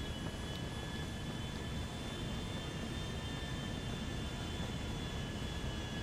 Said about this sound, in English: watch this plane take off.